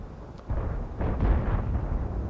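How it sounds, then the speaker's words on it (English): A shot blowing the tracks off a 121B tank in World of Tanks: a faint pop followed by a muffled, rumbling impact and low crunching burst that fades out. "Watch what happens when that 121B gets his tracks blown off."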